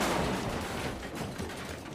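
Collapse sound effect played back in an Unreal sound cue editor: a dense, loud, continuous rumbling crash of debris and impacts that stays thick and sustained for about two seconds with no pauses.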